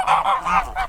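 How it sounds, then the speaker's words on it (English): Geese at a Sardinian vineyard honk in four quick nasal blasts, loud and close, with no voices over them. "So I noticed you have lots of geese here."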